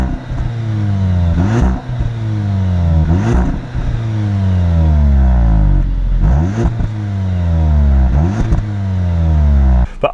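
A 2017 Audi S3 Prestige engine revs repeatedly with exhaust valves open, climbing to about 3,500 RPM against a soft limiter; five loud, close rising sweeps each fall back quickly, no talking.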